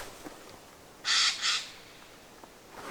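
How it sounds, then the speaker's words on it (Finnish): A bird calls outdoors in Isojärvi National Park on a cold September morning, two loud, harsh, croaking notes in quick succession over quiet background ambience. "Ihan lintu tuo."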